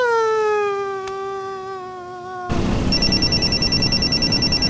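A mobile phone rings with a bright electronic tone that slides downward, then a rapidly pulsing ringtone follows over a busier background, all fairly loud and close.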